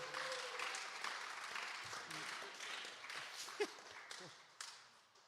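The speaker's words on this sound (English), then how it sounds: "go ahead and applaud for amp giving away" Applause from an audience at a live guitar amp demo, a faint, steady spread of clapping with a couple of louder knocks and voices underneath.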